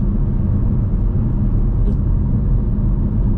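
A car joins the motorway, heard from inside as a loud steady road rumble and engine drone that runs without a break.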